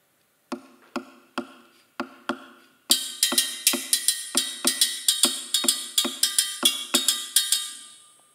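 Guitar body struck percussively to imitate the salsa cascara rhythm, first as a few sparse dry taps, then as a steady syncopated pattern of bright clicking hits, close and fairly quiet, ending in a short fading ring.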